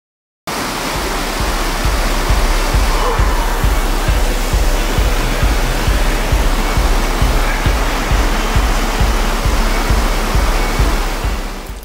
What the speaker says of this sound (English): We start our journey at the Cascades as Aira Falls continues its journey down to the falls itself.